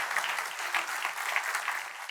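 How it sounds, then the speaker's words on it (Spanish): A church congregation bursts into steady, dense applause at an Easter resurrection service, the clapping sustained and even throughout with no voices over it. "Un aplauso más."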